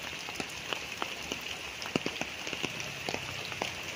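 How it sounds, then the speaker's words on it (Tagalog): Steady rain falls across a farm lot planted with santol trees and young coconut palms in Magdalena, Laguna, a dense continuous hiss with scattered louder drops tapping nearby, no voices. "lumakas na ang ulan oh"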